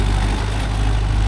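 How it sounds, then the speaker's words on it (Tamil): A Mahindra Yuvo Tech Plus 585 DI 4WD tractor engine runs close by, a steady low diesel drone with an even throbbing pulse and no voices. "இப்போ இன்ஜின் பார்த்தீங்களா எப்படி போகுதுன்னு"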